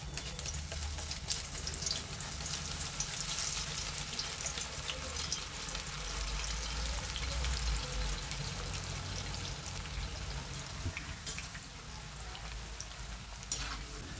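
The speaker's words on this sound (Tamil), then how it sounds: "இதுவும் கரெக்டாக ஒரு 5 நிமிஷம் கிட்ட நம்ம இந்த மாதிரி ஃப்ரை பண்ணணும்" Banana slices deep-fry in hot oil for chips, a soft, continuous bubbling crackle at low level throughout, with no talk.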